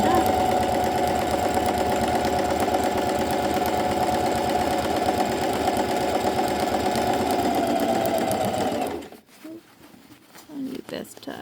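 A sewing machine stitching a French seam in incandescent taffeta runs continuously with a loud, steady mechanical whir. It stops abruptly near the end, leaving quieter handling sounds.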